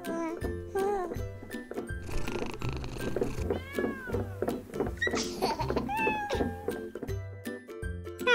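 Cat meows sound repeatedly over background music, several short rising and falling cries close by, with some jingly tones mixed in.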